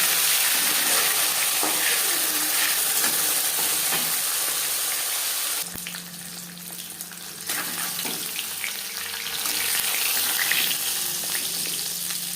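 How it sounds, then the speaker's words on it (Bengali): Small sar puti fish frying in a pan with hot oil, a continuous loud sizzle with brief clinks and stirring sounds partway through. "একটা সাইড ভাজা হয়ে গেলে অপর সাইডটা উল্টে দেবো।"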